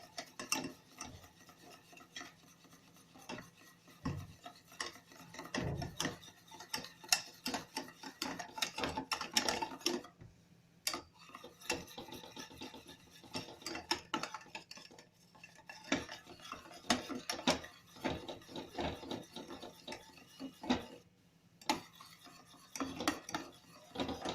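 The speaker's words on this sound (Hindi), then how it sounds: "इसी तरह से धीरे धीरे इसको हिलाते रहें।" A spoon scrapes and stirs chocolate cake mixture cooking in a pan on low heat, continuous close rasping and clinking strokes with a steady, uneven rhythm and no voices.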